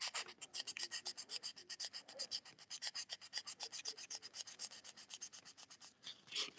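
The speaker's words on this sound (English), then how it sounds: "You want to sand all that grime off of there." Fine sandpaper rubbed back and forth over a grimy electric motor brush, a steady, rapid, rhythmic rasping of short strokes, close and fairly quiet with no talking.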